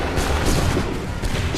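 Musket volley from a line of soldiers in Assassin's Creed 3, a dense ragged burst of overlapping shots with a rolling boom under the noise of battle.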